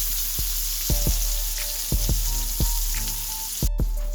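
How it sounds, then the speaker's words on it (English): An Impossible Burger vegan patty sizzling steadily in a hot pan, a constant close frying hiss with a few soft taps and clinks scattered through it. "Now I put the Impossible Burger in there and let it cook."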